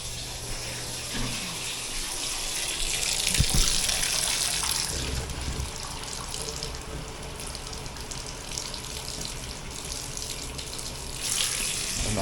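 Water poured steadily into an air conditioner's condensate drain line during a heat pump maintenance service, a continuous broadband rushing splash like a filling sink, close and fairly loud, with no voices.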